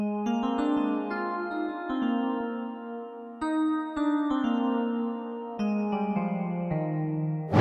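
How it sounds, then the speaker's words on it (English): Warm, retro 80s-style synth keys from the Vapor Dreams preset of the Vapor Keys plugin play chords with a soft, rounded tone, sustaining and then changing at several points, clear and close with no talking. "It just sounds like this really nice warm key sound."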